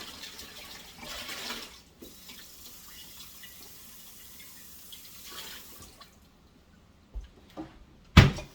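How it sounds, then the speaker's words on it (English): Water splashes and drips faintly as a jar is rinsed out with soapy bleach water at a small kitchen counter, with a few louder knocks and clunks toward the end. "I got some soapy bleach water here. Let's clean the jar out a little bit."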